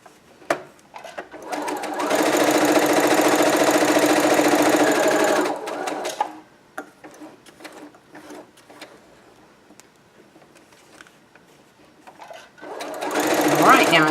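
A sewing machine stitches a straight line to the end and backstitches: one loud steady whirring run of several seconds, then quiet handling clicks, and a second short burst at the close.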